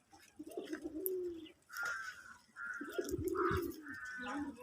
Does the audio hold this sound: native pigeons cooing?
yes